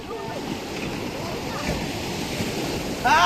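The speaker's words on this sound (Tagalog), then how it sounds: "Ang laki naman ng alon." Large ocean waves roll in a steady, loud broadband roar of surf with splashing, and a voice breaks in briefly at the very end.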